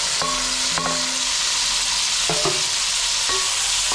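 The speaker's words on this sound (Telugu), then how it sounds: "టమాటాలు, పచ్చిమిరకాయలు. టమాటాలు మెత్తగా వేయించుకోవాలి." Tomatoes and green chillies frying in a pan for village-style mutton biryani, a constant hissing sizzle broken by a few scraping and clanking strokes of a spoon, near and steady with no talk.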